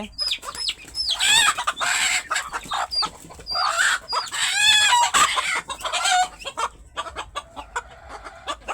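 Desi chickens clucking close by, a busy run of repeated clucks and squawks from several birds, loud and uninterrupted by talk.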